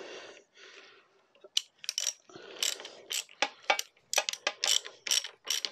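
A Yamaha TZR 125 motorcycle's kickstart is worked in a series of clicking, ratcheting mechanical strokes, irregular and fairly close, with breathing and soft movement between them.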